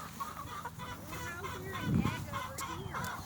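Brown leghorn chickens and roosters on a farm cluck and murmur close by, a busy overlapping chatter of short calls with a louder squawk midway and faint human voices in the background.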